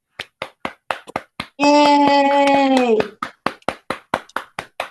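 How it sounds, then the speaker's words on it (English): Quick, crisp hand claps over a video call in an uneven rhythm, interrupted by a long cheerful shout from a voice, then more scattered clapping. "because they deserve a big round of applause."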